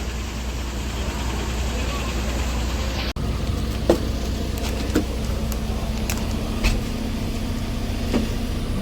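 A Gitanjali bus, half seating and half sleeper, runs with a steady low engine drone and cabin rumble, with a few faint clicks and knocks over the hum.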